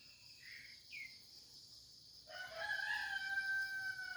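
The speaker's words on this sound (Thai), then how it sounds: "เริ่มขันแล้วนะครับหัดขัน" A young red junglefowl rooster attempts a thin, wavering crow over a steady background of chirping crickets, faint and somewhat distant.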